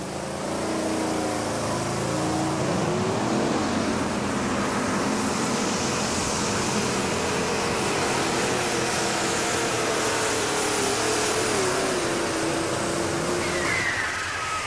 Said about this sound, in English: RPM slowly coming up as he'll ease into the throttle